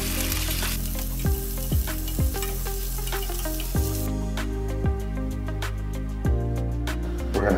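Meatballs for dogs browning in oil in a frying pan give a steady close sizzle and crackle, broken by sharp tapping knocks of a utensil against the pan about every half second to second.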